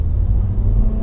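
A Toyota C-HR in sport drive mode revs hard while accelerating, giving a loud, steady, close engine rumble that fills the whole moment with no voices.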